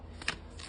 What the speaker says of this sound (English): I'll do a few more shuffles